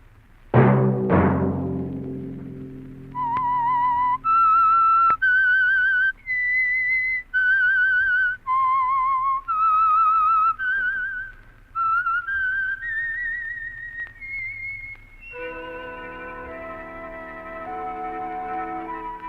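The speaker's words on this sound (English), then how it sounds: "Let that whistle be your signal for the Signal Oil program, The Whistler" A lone whistler performs the signature tune of the Signal Oil radio mystery program The Whistler, a series of clear sustained notes in a slow melodic phrase, following an opening orchestral chord and ending with a brief musical sting.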